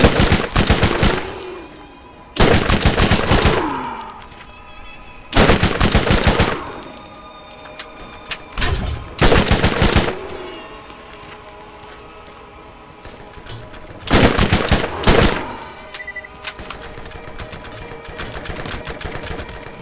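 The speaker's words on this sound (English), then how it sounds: "Oh, that's you shooting at me, buddy?" Bursts of automatic gunfire from the video game Borderlands (GOTY Enhanced), several loud rapid volleys separated by short pauses, with quieter game ambience between them.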